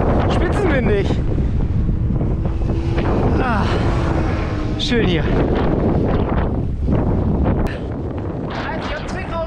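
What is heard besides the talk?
wind on a bike ride along a dike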